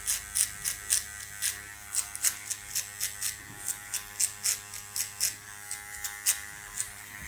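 Electric hair clipper trimming a taper fade, used with just the tip of the blade to blend the lower hairs; a steady close buzz broken into many short, rhythmic strokes, alone without talk.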